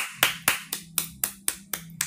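Someone on a Meng Jia livestream claps in a steady, quiet rhythm: about eight separate crisp claps, evenly spaced roughly a quarter second apart, close to the mic with nothing else heard.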